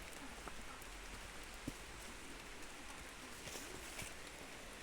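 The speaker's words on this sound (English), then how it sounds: "it's raining" Rain falls outdoors near a well, a soft, steady patter of drops on surfaces with a few sharper single drips, faint and continuous, with no voices.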